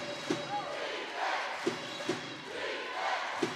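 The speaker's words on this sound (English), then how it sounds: "Big crowd, big arena," A big crowd at a basketball game in the Emirates Arena, Glasgow, fills the space with a steady roar, broken by several sharp thuds and bursts of louder noise.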